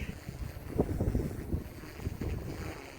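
Strong outdoor wind buffets the microphone during a drone flight, a loud, close, gusting rumble that swells and dips throughout with no other clear sound.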